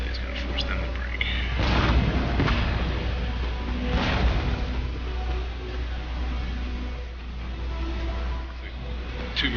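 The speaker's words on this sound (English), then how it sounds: "Cannons just shot pour into that armed populace." Cannon fire booms through a siege battle in Empire Total War, a few heavy blasts standing out over a continuous rumbling battlefield din with faint chirps.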